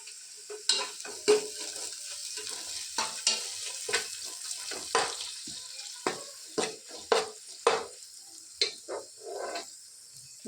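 Ginger garlic paste fries in a pan for Mangalore-style chicken sukka, with a soft sizzle under repeated scraping stirs that come in an irregular rhythm.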